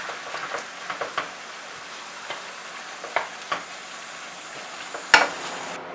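Ground beef and ground pork cooking in a pan, a soft steady sizzle with intermittent scraping stir clicks and one sharper knock near the end.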